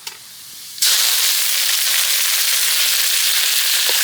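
Curry leaves dropped into hot oil with mustard seeds for raw mango thokku, village-style cooking: a sudden loud burst of sizzling and crackling that keeps hissing steadily and close after a quiet start.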